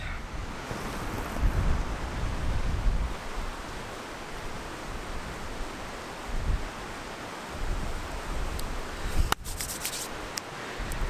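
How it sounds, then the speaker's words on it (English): Wind buffeting the microphone in low rumbling gusts that rise and fall over a steady rushing background, with no speech. "God, it's windy today."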